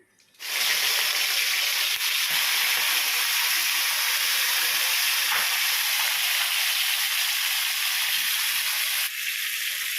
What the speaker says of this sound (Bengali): তেলটা গরম হয়ে গেছে, এখন চিংড়ি মাছগুলো ভেজে নিই।